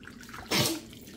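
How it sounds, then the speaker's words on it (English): A six-month-old baby sneezes once in the bath, a single short close burst between quiet water sounds. "Bless you, little baby."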